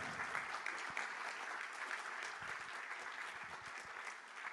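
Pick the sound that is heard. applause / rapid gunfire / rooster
applause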